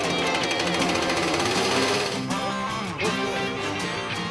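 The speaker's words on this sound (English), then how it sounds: "And a great bonus to us was that Al had his chainsaw with him, so that made the job quite easy." A chainsaw cuts firewood outdoors, its loud buzzing engine rising and dipping in pitch as the chain bites into the wood, with no voices.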